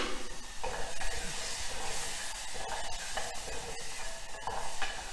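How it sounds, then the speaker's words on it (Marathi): Onion paste with ginger-garlic paste frying in ghee in a pan, a steady loud sizzle and hiss with occasional stirring scrapes. "आता कांदा चांगला ह्यामध्ये भाजला पाहिजे, कांद्याने तूप सोडलं पाहिजे"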